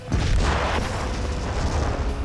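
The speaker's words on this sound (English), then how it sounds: "I mean, that explosion was huge." A large dynamite blast set off in a lake booms out loud and close, its heavy low rumble and broad spray-like roar holding steady for a couple of seconds with no voices over it.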